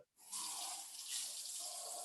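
Warm water gushes steadily from a kitchen tap while a meal is being prepared, close and continuous after a brief silent start, with no talking.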